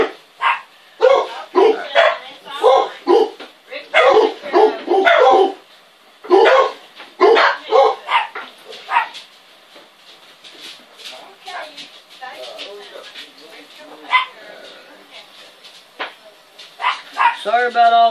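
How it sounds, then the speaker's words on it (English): Several dogs bark, yip and whimper in a workshop where a Bible carrier handle is being sewn. Loud, close, repeated barking comes in clusters throughout, with quieter stretches in between. "Sorry about all the dogs."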